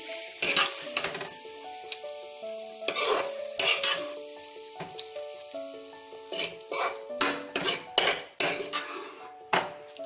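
Fish stir-fry in a kitchen pan: a utensil scrapes and clanks against the metal in irregular bursts over a low sizzle, with pot and cutlery clatter close by.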